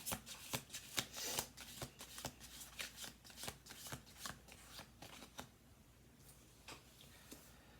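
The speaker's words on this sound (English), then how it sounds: "We'll do 2 more shuffles here." Playing cards being shuffled in repeated quick riffles, a rapid series of crisp fluttering snaps close by, easing off toward the end.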